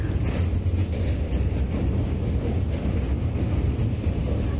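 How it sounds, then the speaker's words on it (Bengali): A passenger train runs steadily, heard from on board as a continuous loud low rumble with rattling and wind noise throughout. "আর ট্রেনটা কিন্তু একদম রাইট টাইমে ছেড়ে দিয়েছে।"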